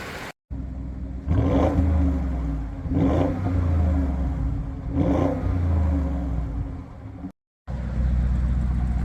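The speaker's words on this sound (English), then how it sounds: "I'm going to drop you at the rear so you can hear the sound that that engine produces" An Audi SQ7 SUV engine revs three times in strong surges, heard from the rear, each rising and falling with a deep rumble, close and loud between short gaps of silence.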